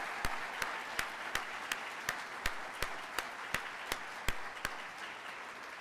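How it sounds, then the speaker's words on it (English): An audience at a spring nurse pinning ceremony claps in a sparse, evenly spaced rhythm, sharp individual claps rather than a dense roar, moderately distant in a large room. "Can we give a round of applause for that?"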